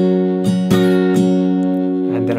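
Guitar strumming over the five chord of a song, a few sharp strums ringing close and loud with sustained chords between them, no talking.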